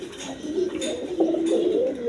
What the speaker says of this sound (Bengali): রাজগোল রাজগোল্লা কবুতর একদম বিগ সাইজের দেখেন